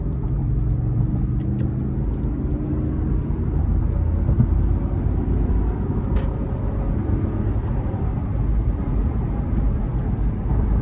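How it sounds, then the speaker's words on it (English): A 2014 Lexus GX 460 with a V8, six-speed automatic and 115,000 miles accelerating under throttle after a manual downshift, giving a steady, loud, close engine rumble heard from inside the cabin with no talk. "So let's give it some throttle here."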